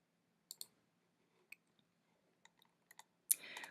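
A handful of sharp, quiet computer mouse clicks, scattered singly and in pairs over a few seconds of near silence, followed by a brief louder rustle.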